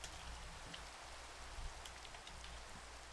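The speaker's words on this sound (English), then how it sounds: "I think that's new rain sound." Steady rain pours down in a blocky Minecraft world, a dense even hiss of drops on surfaces with a faint low rumble beneath, continuous and unbroken for the whole stretch.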